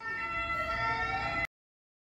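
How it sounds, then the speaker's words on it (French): An ambulance siren wails steadily at moderate distance for about a second and a half, then cuts off abruptly into silence. "De chez moi, on entend souvent les sirènes des ambulances."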